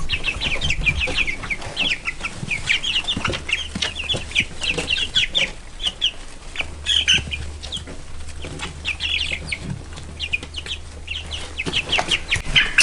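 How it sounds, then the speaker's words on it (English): Three-week-old chicks, feathering out, cluck and peep steadily in a farmyard coop, a dense chorus of overlapping calls with occasional wing flutters and a low background hum throughout. "These chicks will be ready for harvesting in middle of July."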